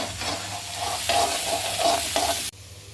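Raw jackfruit with salt sautéing on a high flame, a loud, steady sizzle with repeated stirring scrapes in the pan, cutting off abruptly near the end.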